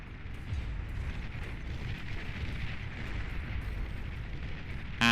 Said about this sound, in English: The Tsar getting some great shots over that hill, taking out chunks of units at a time.